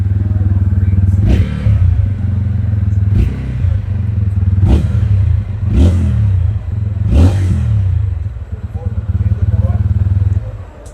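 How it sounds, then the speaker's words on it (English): A TVS Ronin 225cc motorcycle engine idles close by and is blipped through five sharp revs, each rising quickly and falling back to a steady idle. "Now, let's hear what that engine sounds like."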